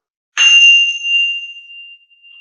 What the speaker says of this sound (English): So these are my Tibetan bells.